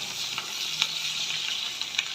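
Green chillies and chicken frying in a pan for Bengali chilli chicken give a steady broadband sizzle with a few light clicks of stirring, close and moderately loud, with no voices.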